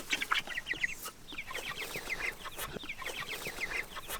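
Chickens on a farm, large birds being raised for harvest, clucking in quick repeated bursts at moderate distance over a rustling background, with no talking.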